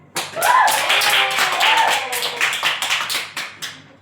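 A short burst of rhythmic hand clapping from a small group, loud and close, with voices mixed in at the start.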